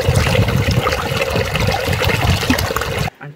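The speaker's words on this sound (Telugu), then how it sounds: "యాక్చువల్గా ఇది చాలా ఫ్రెష్ వాటర్ డైరెక్ట్ పైనుంచి వస్తుంది" Fresh spring water pours down from above on Seethamma Parvatham, a 5540 ft mountain, in a steady, close, full rushing splash that stops abruptly near the end.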